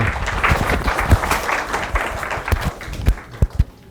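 Audience applause for the panelists at a food-tech innovation forum in Gangnam, a dense, loud burst of many hands clapping that thins out toward the end into a few separate claps.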